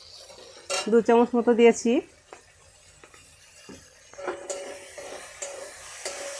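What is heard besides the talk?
stirring flattened rice breakfast with soy sauce in a pan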